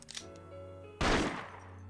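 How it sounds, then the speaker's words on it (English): A single loud gunshot in the video game Persona 4 Arena Ultimax, fired at a security camera so its lens shatters: a sharp, close blast that decays quickly after a stretch of quiet game tones. "He fires, and the lens of the security camera in the room shatters into pieces, accompanied by an ear-splitting sound of gunfire."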